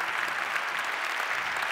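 Steady audience applause at a CNRS gold medal award ceremony, dense and continuous clapping from a large crowd filling the whole stretch without pause.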